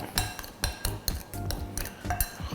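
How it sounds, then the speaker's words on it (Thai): A spoon scrapes and clinks against a bowl while stirring pork dumpling filling, about five quiet, fairly regular strokes with soft knocks and wet mixing between them. "พอส่วนผสมทุกอย่าง ใส่ลงไปแล้วคนเล็กน้อยนะครับ"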